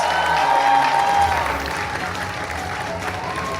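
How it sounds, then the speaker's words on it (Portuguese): An audience applauds for a teacher being honoured at an event, a dense, steady wash of clapping close by that eases slightly after the first second and a half. "Peço os aplausos para a professora Regina Paiva Rabelo Reis."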